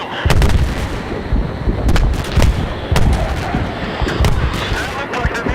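Bombs exploding in the video game Battlefield 3, a run of loud booming blasts and sharp gunfire-like cracks over a dense rumble of in-game action, with a voice talking over it.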